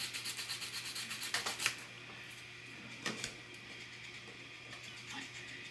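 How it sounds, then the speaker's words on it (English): Small file scraping crud off the prongs of an extension cord plug, a rapid series of rhythmic rasping strokes up close, then a few scattered scratches and taps. "Or a small file. There's actually quite a bit of crud on here."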